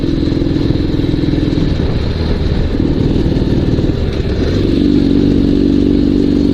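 Dnepr sidecar motorcycle engine running roughly with a suspected carburetor fault, a loud close uneven idle that chugs and clatters steadily throughout, rising slightly near the end.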